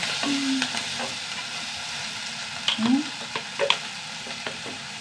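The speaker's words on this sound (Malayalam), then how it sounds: "ഒന്ന് വഴണ്ട് വരട്ടെട്ടാ" Onions and chilies sauté in a pan with a steady sizzle and occasional stirring scrapes, close up, while a voice speaks briefly over the cooking.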